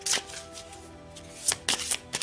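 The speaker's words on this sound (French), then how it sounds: "Je vais tirer une carte pour voir un petit peu." Oracle cards are shuffled by hand in a few quick riffling bursts, close up and crisp, with short pauses between them.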